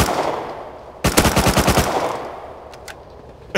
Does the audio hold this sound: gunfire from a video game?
yes